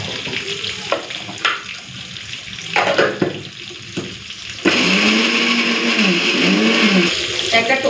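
A mixer grinder whirs steadily as it grinds dried chillies with whole cumin, a loud continuous drone with a rhythmic cycling undertone, preceded by clattering kitchen sounds.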